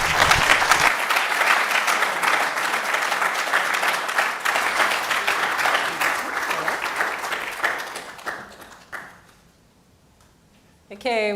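A large indoor audience at a careers event claps loudly for about eight seconds, and the clapping thins out and dies away into near silence.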